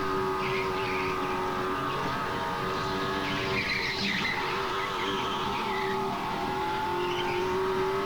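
A race car engine in a racing video game, a continuous droning whine held under steady load with slight throttle modulation and faint tire squeal mixed in, loud and even throughout.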